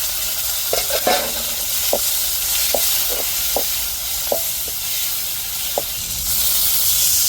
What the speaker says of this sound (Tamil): தக்காளி மிளகாய தாளிப்பில் சேர்த்துருவோம்